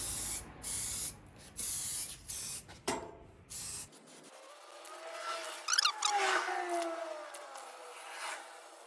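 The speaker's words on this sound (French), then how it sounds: "la peinture, ça a fait une petite giclée" Spray paint hisses onto a motorcycle fender, an XS rear wing, in several short close bursts, followed by a softer, longer stretch of spraying and rubbing.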